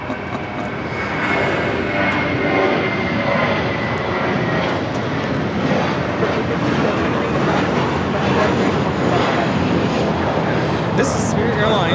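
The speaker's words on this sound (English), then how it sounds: "This is Spirit Airlines 303 taking off to Detroit on the A320." A Spirit Airlines Airbus A320 takes off from Los Angeles, its broadband jet roar steady and loud throughout the takeoff, with a person talking over it.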